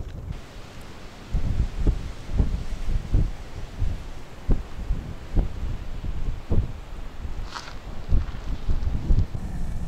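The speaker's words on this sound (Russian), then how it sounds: "ветер без остановки дует" Steady low rumbling wind buffeting by the Amur River, heard from inside a car, with repeated gusty thumps rising and falling throughout, loud and close, no voices.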